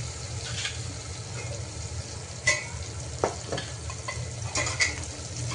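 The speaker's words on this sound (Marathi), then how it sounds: "हे बघा आता आपलं टोमॅटो कांदा चांगलं परतलेलं आहे." Tomato and onion sautéing in a pan for dal khichdi: a steady close sizzle with a low hum underneath, and a few sharp scrapes as the mix is stirred, no voices.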